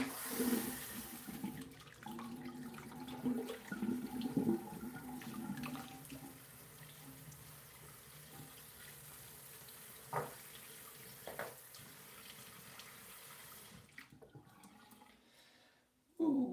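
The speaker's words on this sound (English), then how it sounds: "Cold water running" Cold water runs from a bathroom tap in a steady low hiss, with faint clinks and a couple of sharp knocks before the flow stops near the end.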